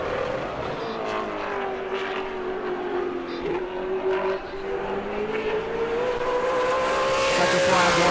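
A race car lapping New Smyrna speedway during ASA Southern Super Series qualifying, a sustained high engine whine that rises and dips in pitch as it circles, loud and continuous, with faint commentary mixed underneath.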